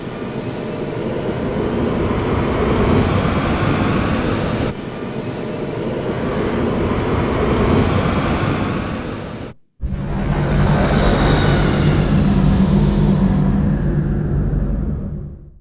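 Warship spacecraft launching in a space battle scene, a loud continuous jet-like engine roar that cuts out briefly and then surges back even stronger, with no talk.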